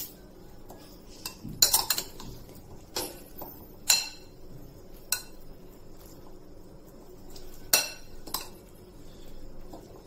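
A spoon stirring food in a pan after a tablespoon of salt goes in: scattered metallic clinks and scrapes of cutlery against cookware, irregular and fairly close, with quiet gaps between strikes.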